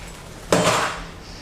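Ice goes into a glass for a shaken brown sugar espresso, one sharp clattering drop of cubes that rings briefly and fades, close by with no talking.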